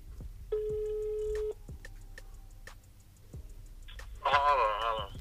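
An outgoing call rings out as a single steady ringback tone lasting about a second, followed by ticking quiet and then a voice picking up near the end.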